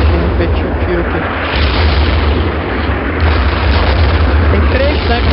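A loud, continuous rumbling roar of heavy tank cannon fire and booming blasts in a video game, dense and unbroken throughout.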